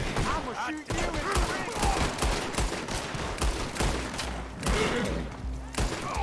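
Constant overlapping gunfire from a Red Dead Redemption 2 shootout, dense bursts of shots and booms with a talking voice mixed in throughout.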